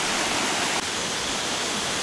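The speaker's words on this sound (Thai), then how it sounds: "น้ำใสไหลเย็นเลยครับ" Clear, cool water pouring down a waterfall and flowing along a stream in northern Thailand in March, a loud, steady, close rushing roar with no voices.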